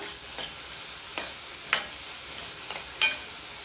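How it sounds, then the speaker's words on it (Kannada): Vegetables frying in oil for a vegetable oats dish, a steady close sizzle broken by several sharp scraping stirs of a spoon against the pan, no talking. "ನೋಡಿ ಈ ಥರ 2 ನಿಮಿಷ ಚೆನ್ನಾಗಿ ಎಣ್ಣೆಯಲ್ಲಿ ಫ್ರೈ ಮಾಡ್ಕೋಬೇಕು."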